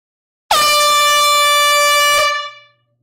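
A single loud air horn blast rings out at a vinyl record auction to mark a sale, holding steady for about two seconds and then cutting off with a short fading tail.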